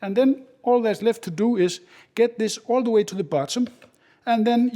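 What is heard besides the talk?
No distinct noise like a dog, phone or traffic.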